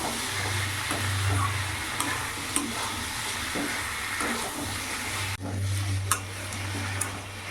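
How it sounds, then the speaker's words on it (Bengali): Ginger, garlic and chili paste being stirred into chicken curry in a frying pan: a steady close sizzle of hot oil with scraping spoon strokes and occasional clinks against the pan, continuous throughout. "আদা রসুন লঙ্কা পেস্ট দু চামচ দিয়ে দিলাম ভালো করে মিশিয়ে নেব"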